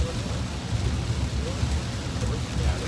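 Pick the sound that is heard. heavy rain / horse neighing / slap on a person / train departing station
heavy rain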